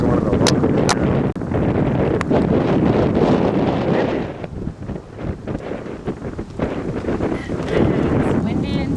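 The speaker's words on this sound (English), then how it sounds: "It's windy in Buell." Strong wind in Buhl, Idaho buffets the microphone in loud gusts that ease midway then pick up again, with a person talking faintly underneath.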